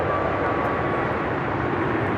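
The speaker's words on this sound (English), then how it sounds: "we've got that American A321neo heading to St. Louis" An American Airlines A321neo jet airliner at LAX gives a steady, broad engine roar, loud and unchanging across the moment, with no clear voices.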